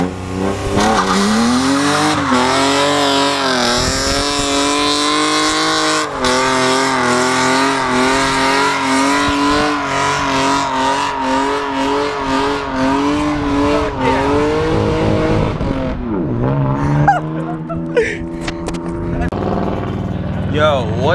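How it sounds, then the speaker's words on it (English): A car is driven and revved hard, its engine note climbing and falling in repeated loud sweeps with tire squeals, close and dominant for most of the stretch before easing off, with voices faintly underneath. "So, Bryce just drove a car."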